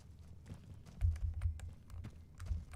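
Heavy stomping footsteps in Fallout New Vegas, a faint, uneven series of dull low thuds with soft clicks in between, like someone tramping around nearby, with no speech.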